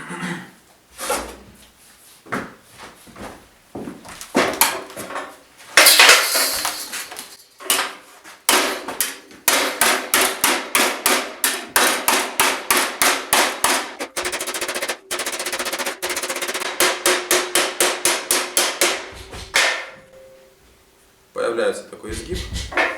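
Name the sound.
hammer forging metal bracer plate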